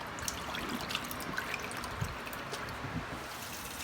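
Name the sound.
water rinsing cleaned catfish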